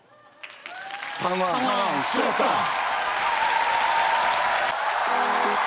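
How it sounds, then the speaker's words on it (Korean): Studio audience applause at a Korean TV comedy sketch set in a coffee shop, a broad clatter of clapping that swells after a short spoken line and carries on steadily while a voice talks over it. "반가우면 박수."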